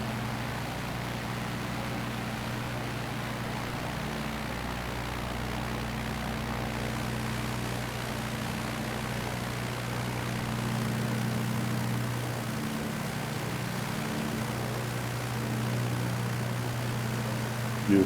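A Tanarg 912 ultralight trike engine drones in flight in Microsoft Flight Simulator, a loud, steady propeller hum that holds an even pitch with no letup and no voices.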